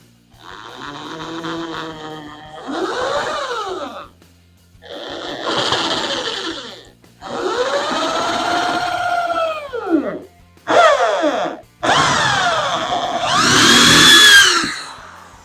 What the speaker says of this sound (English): Take my drill.